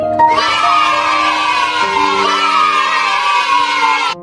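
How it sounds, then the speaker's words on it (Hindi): Village schoolchildren cheer and shout for the student who came first, a loud, sustained crowd of high young voices lasting several seconds before it stops abruptly. "चलो सभी रुपेश के लिए ताली बजाओ।"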